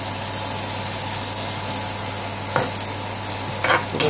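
Curry powder spices for a Bengali-style chicken heart bhaji are stirred in a pan, giving a steady close sizzle with a few scraping stirs near the end.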